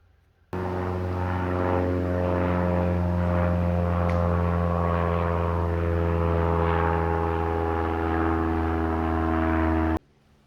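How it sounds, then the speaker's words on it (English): A propeller airplane drones steadily overhead, a constant low engine hum with no talking, sustained for several seconds before cutting off. "I guess there's always a plane within half hour going by"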